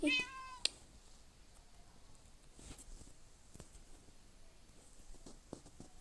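A single cat meows at the very start, then the scene falls to quiet background with a few faint taps and rustles.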